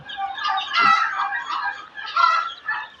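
Native desi chickens on a mixed poultry farm cluck and chatter continuously at close range, several hens calling over one another in uneven bursts.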